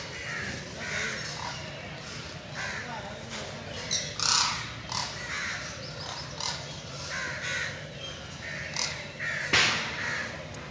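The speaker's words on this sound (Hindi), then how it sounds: "परिंदों की आवाज़ें।" Crows caw repeatedly at a zoo bird enclosure, sharp calls rising out of a steady outdoor murmur at moderate distance, with faint voices in the background.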